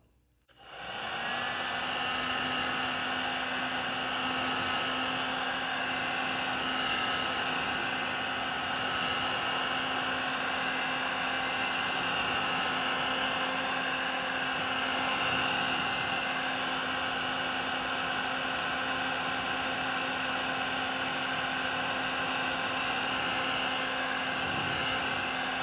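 A heat gun or hair dryer warming an old sticker label to loosen it for peeling: a blower switches on and runs as a loud, steady whirring hum with a constant tone, unbroken for nearly half a minute.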